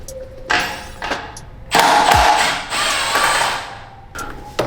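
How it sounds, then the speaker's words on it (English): An 8mm wrench works a bolt joining the brake lines on a Honda CBR600RR motorcycle, with short metallic ratcheting and clicking bursts, some rustling handling noise and a brief knock, heard up close with no talk. "we're going to just be removing this bolt down here that connects all of the brake lines together"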